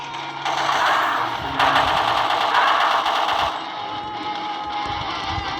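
Rapid bursts of automatic gunfire in a zombie arena survival video game, loud and close, firing in two or three sustained volleys with short gaps between them. No speech.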